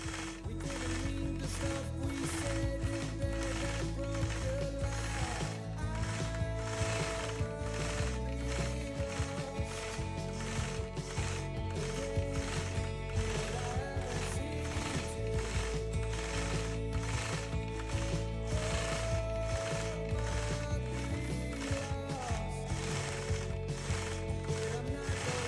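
Sewing machine quilting a geometric square stipple background filler, a loud continuous rapid mechanical chatter that runs steadily and close throughout with no talk.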